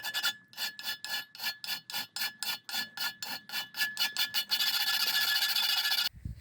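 Hand file rasping over a mild steel knife blank held in a clamp, about sixteen steady back-and-forth strokes, close and alone, ending in a longer continuous scrape.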